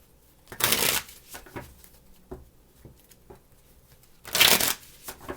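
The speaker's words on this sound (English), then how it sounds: "Two more shuffles." A deck of tarot cards is shuffled close by during a love reading. Two loud riffling bursts stand apart, one near the start and one near the end, with soft taps and handling of the cards in between.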